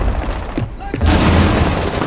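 Loud gunshots and a short burst of gunfire in Rainbow Six during a Team Deathmatch round, sharp booming reports over game ambience, with a dip in sound before the firing resumes.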